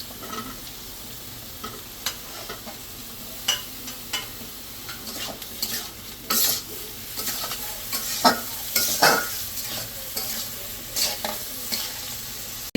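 Oil sizzles steadily as eggplant fries in a wok while a utensil scrapes and stirs in repeated bursts, close and lively, with no talking.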